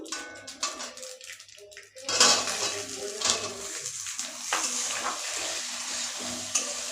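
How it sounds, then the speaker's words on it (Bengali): Whole cumin and black mustard seeds dropped into hot oil, giving a steady close sizzle with spoon stirring and light pan clinks that swell from about two seconds onward. "তেলটাও গরম হয়ে গেছে এবার এর মধ্যে দিয়ে দেবো গোটা জিরে কালো সর্ষে"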